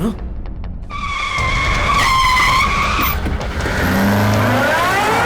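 A car brakes hard, its tires squealing loudly in a long rising and falling skid that slides to a stop, with voices speaking over and after it.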